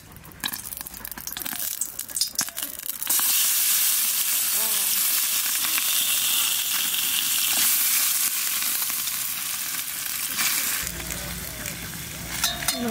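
Marinated fish slid into a hot oiled bowl for a village-style Bengali fish curry sets off a loud, continuous sizzle and crackle of frying oil, with a few stirring clatters before and after.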